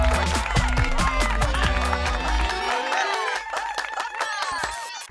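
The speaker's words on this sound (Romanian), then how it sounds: "Aplauze pentru Iuliana, hai" A live audience at a televised show cheers, shouts and claps loudly close by, the noisy crowd swell easing off after a few seconds.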